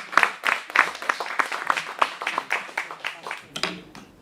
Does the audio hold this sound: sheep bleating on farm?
no